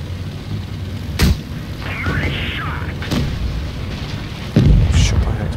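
Explosive shell strikes a tank in World of Tanks Blitz, two sharp booming impacts over steady battle rumble, with a voice talking in between.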